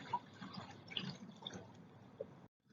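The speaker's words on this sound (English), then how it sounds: "I hear the soft sound of trickling water" Faint, quiet trickling and dripping water with small irregular plinks, soft and gentle, ending in near silence.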